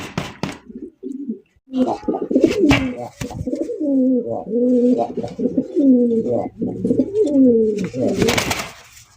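Desi Bombay pigeons coo close by in a repeated, throaty rolling murmur, with a few wing flutters and handling knocks around the calls.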